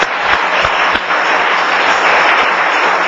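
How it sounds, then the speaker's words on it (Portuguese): A church congregation applauds together, a dense and loud wash of clapping that stays steady throughout with no voices on top. "Palmas ao Senhor Jesus, quem recebe entendimento."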